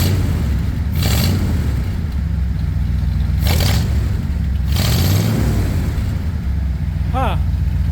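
A Ford F100 truck engine with shortened glass pack mufflers rumbles at idle, with three sharp revs at about one, three and a half and five seconds, as people talk nearby.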